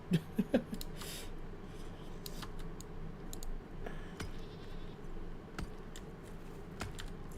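Short, nasal bleats from a goat in a Lord of the Rings survival video game, heard as several quick calls at the start, followed by a low ambient bed and scattered clicks, with no speech heard.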